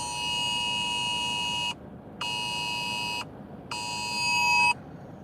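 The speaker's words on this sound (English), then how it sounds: "that's a Weather Service emergency broadcast" National Weather Service emergency alert tones sounding from a phone during freezing drizzle in Tulsa, Oklahoma: three loud, harsh, sustained electronic blasts of about a second each, separated by short gaps, with no talk.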